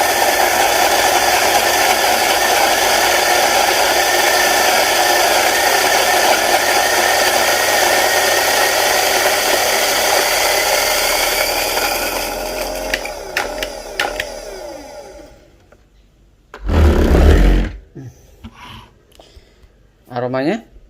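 A coffee grinder crushes an Arabica house blend of beans, its loud, steady motor grinding for about twelve seconds before it winds down and rattles to a stop, followed by a few scattered clatters.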